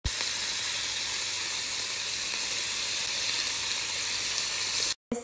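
Roquefort, crème fraîche and butter sauce sizzles on high heat in a pan, a steady loud hiss that runs unbroken for about five seconds before a brief cut.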